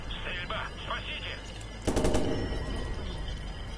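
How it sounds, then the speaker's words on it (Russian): A burst of rapid gunfire in the video game Watch Dogs erupts partway through, a quick rattling volley over a faint background hum and brief indistinct talk. "Стрельба, спасите!"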